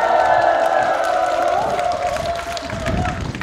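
An audience at a public ceremony in Korea celebrating the Seoul–Yangpyeong expressway answers the host's call with applause and cheering, a sustained crowd roar and clapping with a tonal hum running under it.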